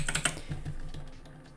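Fingers typing on a computer keyboard, a quick close burst of key clicks that gradually thins out and fades, with no talking.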